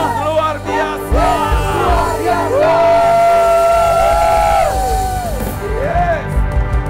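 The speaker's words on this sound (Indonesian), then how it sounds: "berikan sorak-sorai yang meriah buat Tuhan" A congregation at a Good Friday church service cheers and shouts, with loud, sustained yells and whoops from many voices filling the room throughout.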